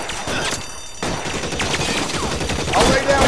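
A gunfight in L.A. Noire Remastered gameplay crackles with rapid overlapping gunshots and ricochets, steady and fairly loud for a few seconds, with no speech over it.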